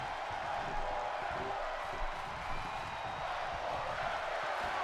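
A steady roar from a large wrestling crowd cheering through a main event, dense and continuous with small swells, heard from within the arena with no clear talking.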